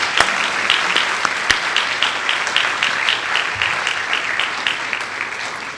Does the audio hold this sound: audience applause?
yes